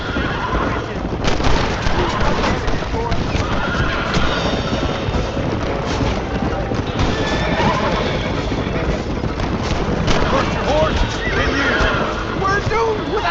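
A horse neighs amid a busy Red Dead Redemption game soundscape with hoofbeats and rumbling movement, while voices talk over the scene.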